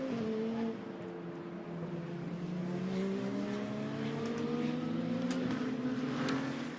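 Fanatec GT2 Europe race cars lap the Hockenheim circuit, several engine notes rising and sweeping together in a steady, continuous roar that holds at a moderate distance throughout.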